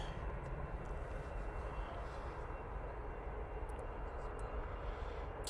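An EasyJet airliner at Manchester Airport gives off a steady, distant jet roar, a broad rumbling wash that holds at a constant level, with faint voices in the background.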